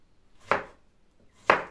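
Two sharp, close knife chops through tomatoes on a cutting board, about a second apart, in an otherwise quiet kitchen.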